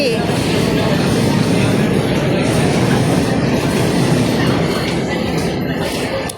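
An MRT metro train rolls along with a loud continuous rumble and rhythmic clatter of wheels on track, close and steady throughout.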